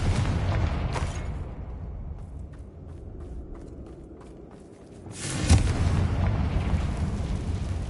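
A Confringo blasting spell goes off in Hogwarts Legacy: a heavy, roaring boom with rumbling decay fills the opening, fades to low rumble, then a second loud burst erupts and sustains at the end.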